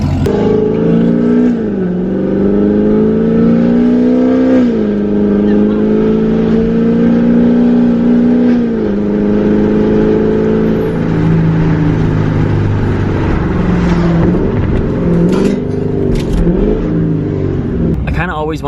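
A Corvette Z06 fitted with long tube headers and a near straight-pipe exhaust revs loudly and repeatedly up close. It rises and falls through sweeping engine pulls, and its harsh, raspy roar is interspersed with talk.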